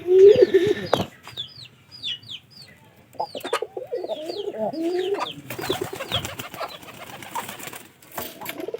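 Pigeons coo in low, throaty bursts nearby, mixed with scattered clucking and bird calls in a quiet outdoor setting.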